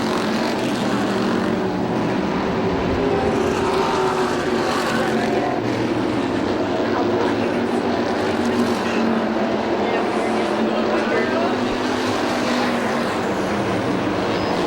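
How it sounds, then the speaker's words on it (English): Race cars on a short speedway oval during an evening show, with a continuous, dense engine roar that stays steady and loud throughout, like a field of cars circling the track at speed. "as Adam Kostelnik from East McKeesport in the Viglione Racing number 60 machine stretches out his advantage."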